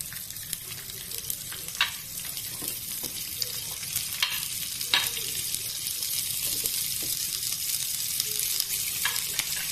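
Chopped onion sizzling in hot oil with cumin seeds in a pan for palak paneer gravy, a continuous crackling fry with occasional stirring scrapes, close and steady.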